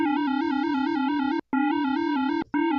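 A buzzy Arturia MicroFreak synthesizer tone plays a repeating pulsing pattern, then abruptly cuts out twice, leaving brief silent gaps before resuming.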